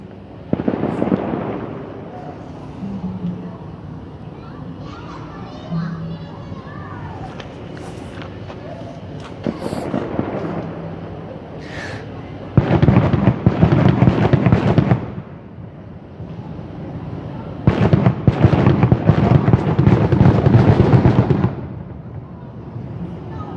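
Fireworks thud and crackle in repeated bursts, with two long loud barrages of rapid crackling separated by quieter stretches of distant booms and background murmur near Orlando.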